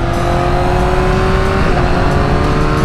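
A Ducati V4 motorcycle accelerates with its quick shifter, a loud, close engine drone holding steady pitch, then a brief dip at a gear change before the note carries on.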